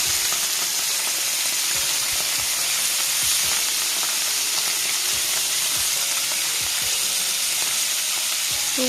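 Paneer, 200 grams of it, fries and sizzles steadily in a pan for the whole stretch, with a dense crackling hiss and occasional soft scrapes and pops, and no voices.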